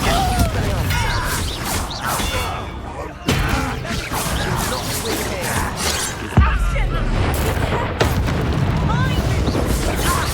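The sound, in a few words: Bombarda blasting spell in Hogwarts Legacy, a video game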